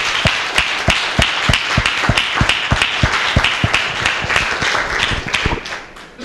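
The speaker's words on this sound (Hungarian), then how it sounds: "So give a round of applause" An indoor audience at a health-product presentation gives a sustained round of applause, dense clapping with some loud individual claps standing out, steady for several seconds before thinning at the end.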